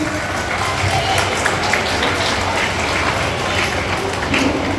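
Audience applause welcoming guests at a school Independence Day celebration, a steady dense wash of many hands clapping throughout, loud and continuous with crowd noise beneath.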